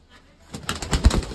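A pigeon gives a short, close, soft coo of a few low, throaty pulses that swell and fade within about a second.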